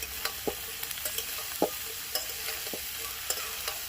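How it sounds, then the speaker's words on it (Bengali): Chopped onion frying together with vegetables in a pan, giving a gentle continuous sizzle broken by repeated spatula scrapes and taps at an irregular rhythm, close and fairly quiet with no voices. "আর এর সাথেই দিয়ে দেবো পেঁয়াজ কুচিটা সব একসাথে ভেজে নেবো"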